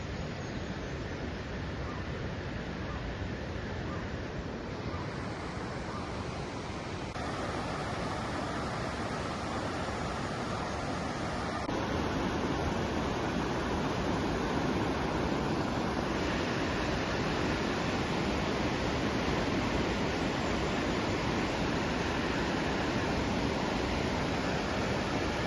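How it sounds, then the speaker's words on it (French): A Himalayan mountain torrent rushing close by on the trek between Chhomrong and Himalpani, a loud, dense and unbroken roar of water lasting throughout with no talk. "j'entends le torrent juste à côté"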